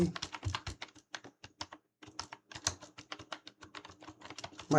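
Rapid typing on a computer keyboard, bursts of clattering keystrokes with brief pauses, close and fairly quiet, no voice over it.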